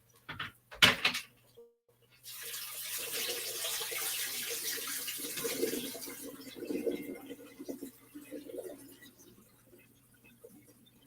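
Potatoes are rinsed under a running kitchen tap during a home canning session, a steady close stream of splashing water after a couple of sharp knocks at the start, gradually easing off toward the end.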